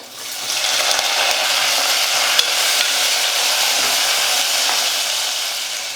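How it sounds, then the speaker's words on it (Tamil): Chopped onion sautéing with garlic and curry leaves in a pan, a loud continuous sizzle with faint stirring underneath, one brief click midway, no talking. "ஒரு பெரிய வெங்காயம் எடுத்து சின்ன சின்னதாக கட் பண்ணிக்கிட்டு அந்த வெங்காயம் சேர்த்துக்கிறேன்"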